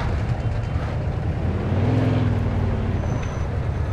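A car engine in the video game Mafia 2 drones low and steady, and near the middle the revs rise and fall briefly.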